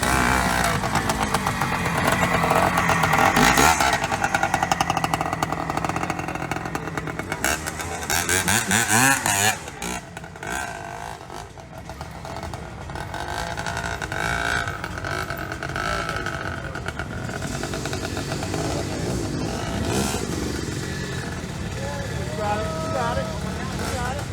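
A vintage motorcycle engine runs at a motorcycle show, a steady loud mechanical drone with crowd chatter and voices mixed throughout.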